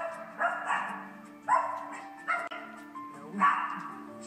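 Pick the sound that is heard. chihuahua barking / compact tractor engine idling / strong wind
chihuahua barking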